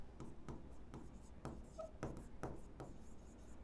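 Pen scratching on paper in short, regular strokes, close and quiet, with rhythmic taps roughly every half second as figures are written out.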